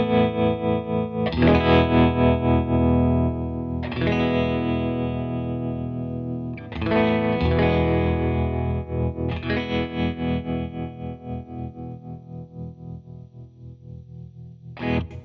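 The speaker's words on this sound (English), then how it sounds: "Then I've got like a tremolo type of a sound." Electric guitar run through an Eventide H90 pedal set to a tremolo patch, sustained chords with a steady pulsing volume wobble, struck anew every few seconds, loud and alone.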